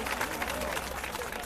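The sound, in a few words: applause welcoming a minister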